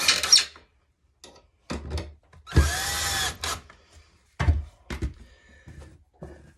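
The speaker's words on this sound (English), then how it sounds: "Run the screws down a little bit, but not to the board." A power drill drives screws into a wooden tray board in several short whirring bursts separated by pauses, with one longer run in the middle, all close and fairly loud.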